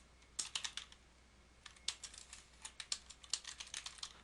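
Computer keyboard typing code in a SageMathCloud session, bursts of quick light key clicks in uneven runs with a short pause between, close but quiet, with no speech.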